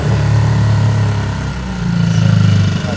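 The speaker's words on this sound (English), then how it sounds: "How do you stop the engine? Really loud." A yacht's engine runs loud and close, a steady low droning rumble that shifts pitch slightly partway through, filling the whole moment.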